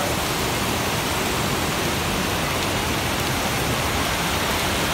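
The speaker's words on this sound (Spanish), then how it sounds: "Ahí el arroyo." Storm water rushes through an open street channel in Barranquilla and pours past drainage grates. The sound is a steady, dense broadband roar, loud and constant with no talk over it.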